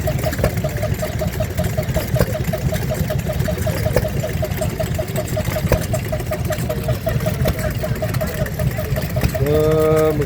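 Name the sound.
Lister D stationary engine running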